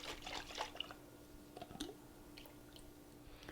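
Pasta sauce and broth slosh and squish inside a lidded jar as it is shaken, wet splashy bursts close up, strongest early and then fading to lighter drips.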